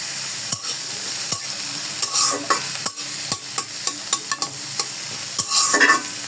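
Onions and ginger fry in a pan toward golden brown, a steady close sizzle broken by repeated scraping stirs of a spoon against the pan.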